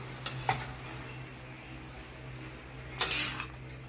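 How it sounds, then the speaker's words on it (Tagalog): Onion and garlic sautéing for pancit in a pan, a soft low sizzle broken by a few sharp clinks of a utensil against the pan, with no talking. "nagisa tayo ng onion at garlic"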